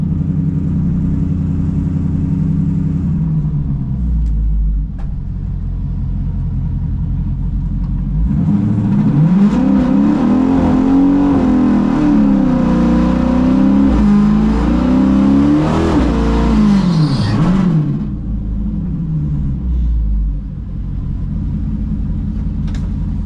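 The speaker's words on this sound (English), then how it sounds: "All right, we're about to do our first run." A naturally aspirated 392 Hemi drag car idles loudly, then its engine rises in a long roaring rev for about ten seconds before dropping back to a rumbling idle, close and continuous.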